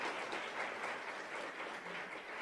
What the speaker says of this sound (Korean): 박수가 너무 많은 것 같지만